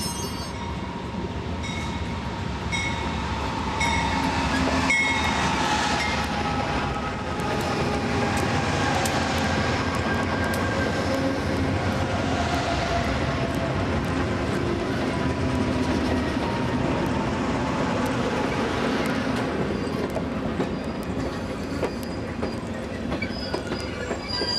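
Train rolling through the Albuquerque, New Mexico station: a loud, continuous rumble of rail cars with wheel clatter and squealing throughout, close by.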